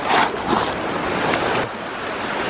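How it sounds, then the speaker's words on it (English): Water churns and rushes around a 3D printed Archimedes screw generator, a close, steady broadband wash with a louder surge at the start and no voices. "You can see right here, the water's literally just spiraling around it"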